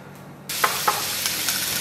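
Spices, including crushed coriander, hit a hot pan for Indonesian chicken porridge and break into a loud, steady sizzle, with a couple of sharp stirring clicks over the hiss.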